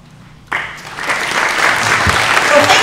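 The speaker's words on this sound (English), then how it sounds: "I just want to give her a round of applause as well." Applause breaking out at a school board meeting, a room of people clapping that starts abruptly after a short quiet moment and builds into steady, fairly loud sustained clapping.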